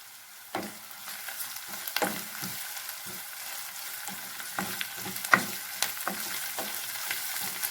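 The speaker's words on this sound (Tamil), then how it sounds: "வெங்காயத்தை நல்லா வணக்கிக்கலாங்க" Onions, curry leaves and green chillies sauté in a pan for a tomato kurma, giving a steady close-up sizzle punctuated by repeated sharp scrapes and clinks of a stirring spoon, with no talking.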